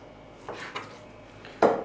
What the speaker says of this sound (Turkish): Şimdi tavuğun hepsini doğrayayım.